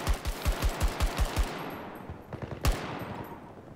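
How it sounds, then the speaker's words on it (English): Assault rifle gunfire in Battlefield 2042 during a fight around boats: a quick run of about eight loud, evenly spaced shots, then a fading echo, with one more heavy shot and its tail near the end. "I scared him with my single fire assault rifle"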